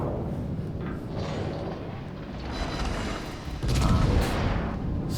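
Rear turrets of the battleship Nagato firing a salvo in a naval game: a dense, rumbling wash of heavy booms that swells into a louder, deeper blast near the end, loud and sustained with no talk.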